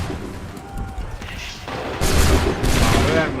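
Musket volleys roar in Assassin's Creed 3 Remastered, loud booming gunfire arriving in two heavy bursts over a rumbling battle background, with faint shouting mixed in.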